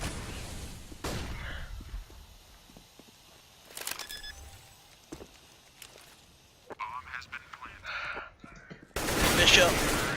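Desert Eagle pistol shots in a Counter-Strike esports match, several sharp isolated reports spaced across the stretch with softer game sounds between and a louder burst near the end.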